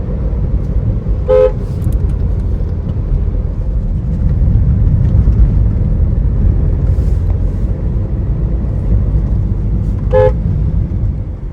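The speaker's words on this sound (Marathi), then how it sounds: "आणि जास्तीत जास्त हॉर्नचा वापर करा." A car horn gives two short toots several seconds apart on a narrow, winding road, over a constant close engine rumble.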